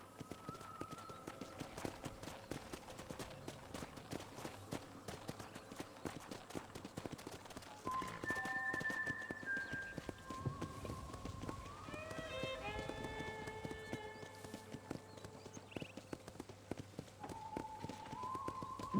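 Horse hooves clip-clop in a steady rhythm in Red Dead Redemption, moderately close, under talking voices and a scattering of tonal background music.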